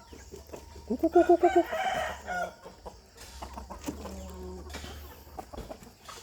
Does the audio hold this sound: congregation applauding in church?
no